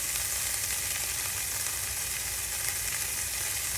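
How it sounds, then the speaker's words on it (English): Corn sizzles in a hot pan for street corn pasta, a dense, steady frying hiss close by that runs without a break and with no talking. "Ooh, corn's popping."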